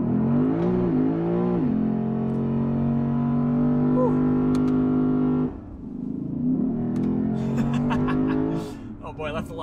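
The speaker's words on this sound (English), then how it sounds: "So yeah, this car will do a nice burnout." A Lexus RC F Fuji Edition is held on launch control for a burnout. The engine drones at steady high revs, dips sharply, then climbs and holds again, loud and close, with no talking.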